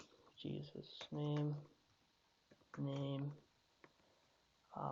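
Keys clicking on a computer keyboard while building a PHP and HTML calculator form, light scattered taps heard beneath steady talking.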